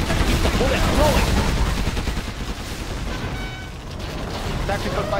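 A Gatling gun in C&C Generals Zero Hour fires rapidly as its barrel spins, making a loud, dense, continuous mechanical rattle of shots throughout, with voices partly mixed in.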